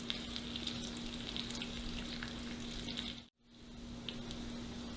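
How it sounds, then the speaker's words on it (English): Homemade bacon fries in a pan with a steady, close crackling sizzle. The sound holds evenly and drops out for a moment midway before resuming. No one speaks. "And there we have some bacon frying up in the pan."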